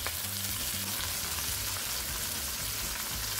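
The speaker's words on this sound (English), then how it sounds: "So now the fish is fried the way I like it" A salmon head fries in a pan for fish soup, giving a steady, dense sizzle and crackle close by that holds at an even level throughout, with no talking.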